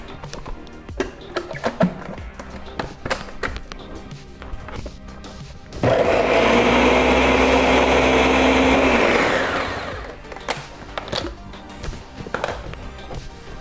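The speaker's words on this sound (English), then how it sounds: "Keep on a slow batch blending all these ingredients together." A kitchen blender whirs loudly and steadily for about four seconds, pureeing pear, onion, ginger and garlic for kimchi, with clattering taps and handling noises before and after.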